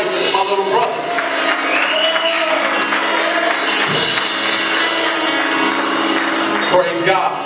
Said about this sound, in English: I want y'all to clap it up for one of the best drummers out here